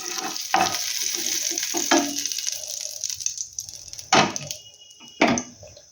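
Kebabs fry in a mix of butter and oil, a loud, close, busy sizzle with stirring scrapes and several sharp utensil clatters against the pan.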